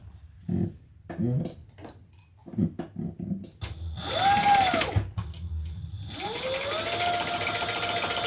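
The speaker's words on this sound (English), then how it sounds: "Let's sew it" A sewing machine stitches a handbag: a few soft clicks and handling taps come first, then the motor whirs in a rising hum, pauses briefly, and runs again steadily and close.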